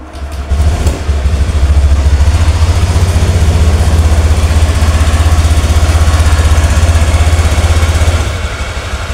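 Honda Beat scooter engine idling steadily after start-up, a close, loud, even low rumble that holds constant for several seconds; the bike has a fuel pump that does not hum and a blinking engine light.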